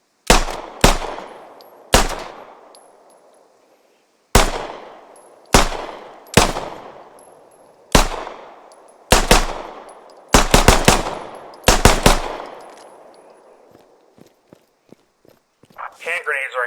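Pistol sidearm shots ring out in the military shooter game Squad: single loud cracks with long echoing decay, some fired in quick doubles and triples, then softer clicks and rustles near the end.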